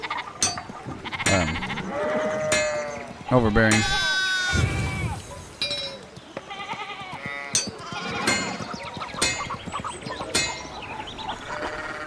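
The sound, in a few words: goats bleating in the video game Pentiment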